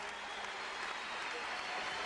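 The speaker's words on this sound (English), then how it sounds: "You can hear the roar of emotion from this crowd, and it is hard to describe the intensity." A basketball arena crowd roars and applauds in a dense, continuous wash of cheering that holds steady throughout.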